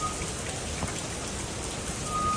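Steady rain falls during a summer thunderstorm on a New York City street, a dense even hiss of drops on pavement, close and continuous with no voices.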